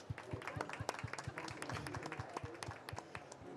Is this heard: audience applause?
yes